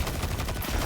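Rapid gunfire from the video game Destiny 2, a dense, loud burst of shots lasting about a second with no pause.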